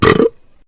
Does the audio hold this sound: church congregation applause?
no